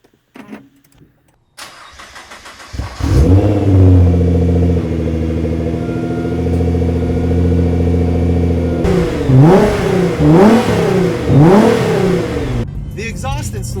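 A Nissan GT-R fitted with a titanium exhaust cranks and fires up into a loud, steady idle, then gives several sharp revs in quick succession near the end, close and dominant.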